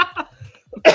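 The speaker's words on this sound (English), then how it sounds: "I've caught the cough back from doing that as well." A person coughs a few short, harsh bursts indoors, with a sharper, louder cough closing the moment.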